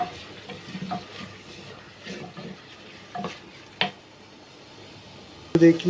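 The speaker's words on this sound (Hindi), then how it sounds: "अब हम इसमें ऐड कर देंगे टमाटोज। इसे कुक करेंगे 2 से 3 मिनट तक।" Tomatoes cook in a pot of mutton handi masala paste, with a soft, faint sizzle and bursts of stirring and scraping, ending in a sharp clatter of utensils.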